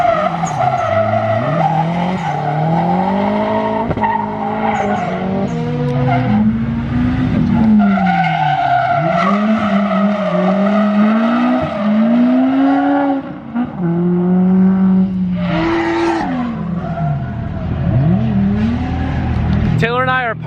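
Car drifting at night on Toge, a narrow mountain road, with long wailing tire squeals rising and falling over a revving engine, loud and close, continuing across the whole stretch with a brief dip midway.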